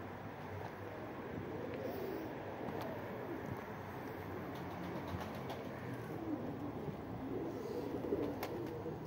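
Pigeons coo softly in a loft, a low murmuring burble that continues throughout at moderate distance, with faint background rustling and no speech.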